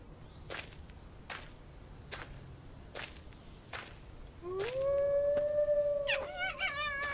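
A fox in the video game The Infected lets out a long rising howl that holds steady, then breaks into wavering higher cries, after several sharp crack-like hits spaced through the opening seconds.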